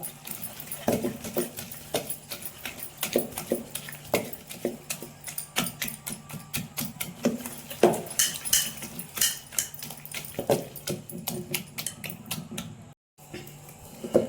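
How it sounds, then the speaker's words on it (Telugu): A dal masher works through cooked food in a pot, making repeated clacking, squelching strokes in an uneven rhythm, close and moderately loud, with a brief pause near the end. "మొదకొని తీసుకొని పప్పు గుత్తితో బాగా మెత్తగా ఎన్నించుకోవాలి"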